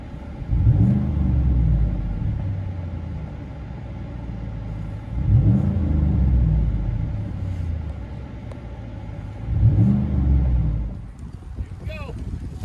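A 2015 GMC Sierra Denali pickup with a 6.2L LS V8 and dual Flowmaster Super 44 exhaust revs in three deep, rumbling bursts about every four seconds, the low exhaust note swelling and settling between blips, loud and close.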